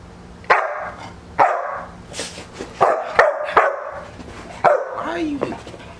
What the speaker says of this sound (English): If I leave him in the cage, he barks.